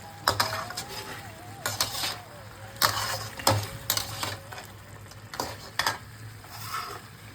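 Mutton frying with spices and a quartered tomato in a pan, stirred in bursts of scraping and clattering spoon-on-metal hits over a low sizzle, close and moderately loud.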